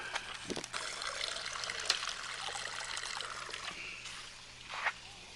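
Natural spring water trickles and burbles out of the ground outdoors, a soft continuous flow with a few splashier moments, fairly faint and heard alone.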